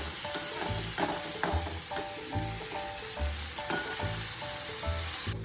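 Carrots fry in a pan with a steady sizzle, punctuated by rhythmic scraping and knocking as a spoon stirs them at a regular pace, close and fairly loud.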